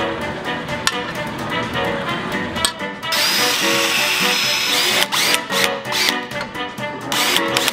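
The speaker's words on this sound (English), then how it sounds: "The bayonet is then going to be drilled to accept a bolt that bolts it onto the rifle." A power drill bores holes through a steel bayonet blade so a bolt can mount it to a rifle: a close, loud whirring grind in steady bursts, with brief pauses and small clicks between runs.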